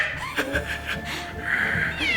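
A cat meowing repeatedly nearby in a series of short, strained cries, building to a longer drawn-out wail, with a person talking over the sounds.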